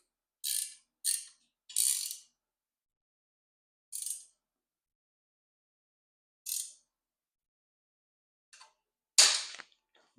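Ratchet wrench tightening a bolt on an NHRA roll cage bar: several short clicking bursts, clustered early then spaced out, fairly close and clear with silence between, ending in a louder rasping pull.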